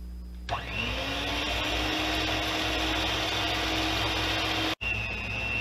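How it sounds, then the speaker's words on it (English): Electric mixer beating thick doughnut batter in a bowl, switching on with a steady loud whine that holds for several seconds, briefly cuts out and resumes, close with no talk. "The mixer is pushing through."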